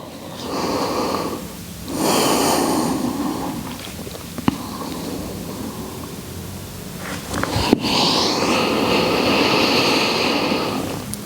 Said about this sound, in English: allowing yourself a few rounds of deep breathing here in melting heart or puppy pose